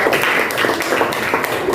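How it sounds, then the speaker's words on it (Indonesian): A classroom of students applauding a student group, with dense, even clapping that holds steady and fairly loud across the whole short stretch. "Tepuk tangan dulu untuk kelompok 4 ini."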